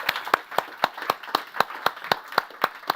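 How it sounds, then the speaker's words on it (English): A small audience claps for a panel at a university event, about a dozen sharp, evenly spaced claps that sound like a sparse group rather than full applause, fairly close and with no talk. "Please join me giving our panel a fantastic round of applause."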